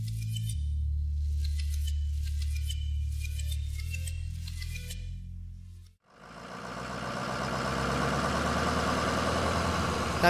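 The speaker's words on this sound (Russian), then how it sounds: "Тут на помощь фермерам приходит опрыскиватель поля." Agricultural field sprayer engine running, a loud low-pitched diesel drone with faint beeping above, cut briefly before a rougher, busier mechanical running sound resumes.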